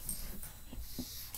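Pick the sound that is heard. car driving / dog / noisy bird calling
dog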